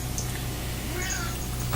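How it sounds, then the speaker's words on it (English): A cat meows faintly once or twice over a steady low hum and background noise, with a brief louder sound near the end. "And here comes this goofy cat again."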